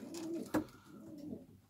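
A racing pigeon gives a soft, throaty coo nearby in a loft, a short rolling call with a brief flutter in the middle.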